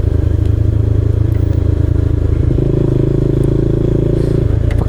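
A motorcycle rides along a downhill road on a touring route, its engine droning loud and close with a steady low hum that shifts pitch partway through, alongside rattling and buffeting wind noise.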